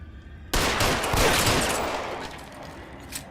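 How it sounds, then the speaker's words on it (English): Gunfire from a shootout between characters in the video game L.A. Noire: a sudden, loud burst of rapid shots begins after a short quiet, then rolls on as sustained overlapping fire that slowly fades, with one last crack near the end. "Just shooting each other."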